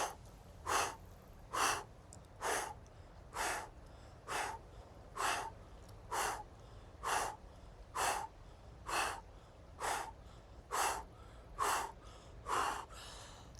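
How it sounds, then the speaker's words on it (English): Deep, slow breathing in a guided breathwork exercise: about fourteen evenly spaced, airy inhale-exhale cycles, close to the microphone and steady in rhythm over a low background hum. "Join me in a deep breath."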